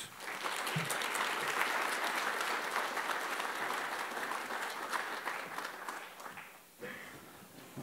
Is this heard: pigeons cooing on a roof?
no